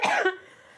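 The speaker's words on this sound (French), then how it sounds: "Ça me fait tousser carrément." One short, sharp cough bursts out close by, followed by a brief rasping tail and quiet.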